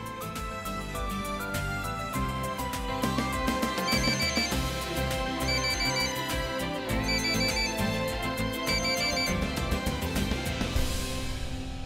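A phone ringtone chimes in a repeating melodic pattern over a dense musical backing, loud and steady throughout with no talking.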